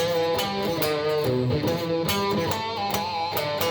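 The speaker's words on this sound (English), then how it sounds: "That follows into a riff which is pentatonic based," An electric guitar plays a pentatonic main riff, with a string of picked notes and bends ringing steadily at a loud, even level throughout.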